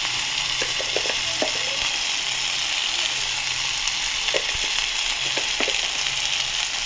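Onion and tomato frying in a pan, a steady loud sizzle throughout with scattered small pops and the occasional clink of a stirring spoon.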